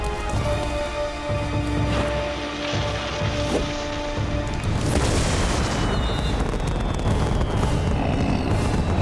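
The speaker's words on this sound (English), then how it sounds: "Nice touch setting off the fireworks." Fireworks going off in an animated cartoon: loud, dense crackling bursts and booms fill the stretch and swell into a thick rumbling roar partway through, with no talk.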